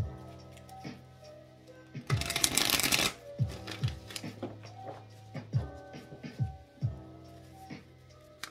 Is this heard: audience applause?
no